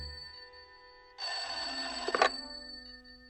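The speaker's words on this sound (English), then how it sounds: "What's that? Sounds like the phone to me." A telephone bell rings once in a quiet room, a bright sustained ring of about a second with a brief rattle as it cuts off.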